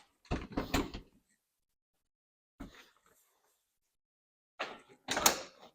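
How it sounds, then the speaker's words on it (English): Door of a Polaris RZR 900/1000 Trail side-by-side with a plastic vault enclosure being shut, giving a few short, close thumps and rattles separated by silence. "What I want to do is shut the door."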